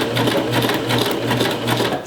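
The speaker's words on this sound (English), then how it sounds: "All right, I'm gonna sew to this corner." A domestic sewing machine stitches fabric toward a corner, giving a quick, even mechanical whir with rapid rhythmic needle clatter, close and alone.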